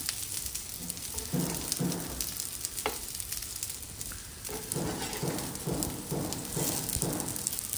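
Banana stem cutlets sizzle steadily in hot oil in a pan, with a spatula scraping and turning them at intervals under the constant frying hiss.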